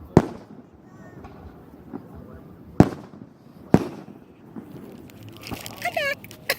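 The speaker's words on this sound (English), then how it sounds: "Fireworks are actually awesome." Fireworks go off outdoors in a few sharp, loud bangs spread across the stretch, with crackling near the end, while people talk casually over them.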